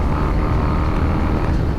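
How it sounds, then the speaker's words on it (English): Triumph Thruxton 900 cafe racer motorcycle engine running steadily close by, a continuous loud low rumble with no pauses and no talk. "a very special Triumph Thruxton 900. Listen to that!"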